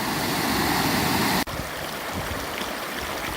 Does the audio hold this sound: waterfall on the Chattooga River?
yes